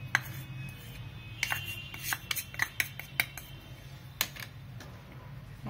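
Chicken marinade with lemon juice, salt, cornflour and maida mixed in a bowl, a spoon giving light irregular clinks and taps against the dish over a quiet, soft background, close and faint, with no talk.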